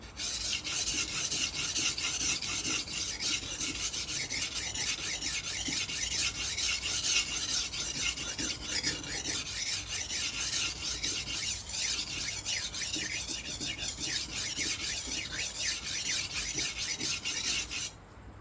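A knife blade scrapes steadily against the coarse 120-grit side of a whetstone in a continuous, gritty rasping rhythm, close and fairly loud, with no voices.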